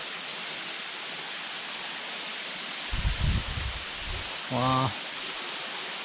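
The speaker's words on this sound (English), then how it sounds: "I have not seen such a big waterfall in Tripura." Large waterfall in Tripura at Tangpui village, a steady broadband roar of falling water filling the whole clip, with a man's brief exclamations heard over it.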